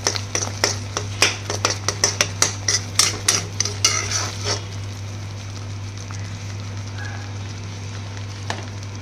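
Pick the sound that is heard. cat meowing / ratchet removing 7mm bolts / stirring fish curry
stirring fish curry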